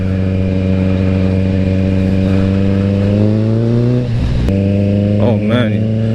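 A Kawasaki Z900 motorcycle engine drones loud and steady while riding, its pitch rising slowly and then dropping as the throttle closes before picking up again. A rider talks over the engine noise.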